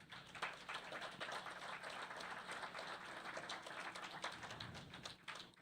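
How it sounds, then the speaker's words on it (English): A round of applause at a school district awards ceremony, many hands clapping together in a steady, fairly faint wash of claps that lasts throughout without a pause. "Although he's not here, we can give him a round of applause."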